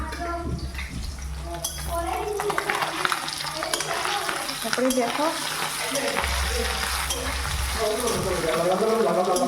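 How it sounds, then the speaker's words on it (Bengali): Fish pieces fry in a hot pan, firmed up before going into a curry, giving a steady close sizzle with crackles throughout while someone talks over it. "মাছগুলো ভাজা ভালো করে করে নিচ্ছি যাতে তরকারিতে দিলে পরে না ভাঙা ভেঙে না যায়"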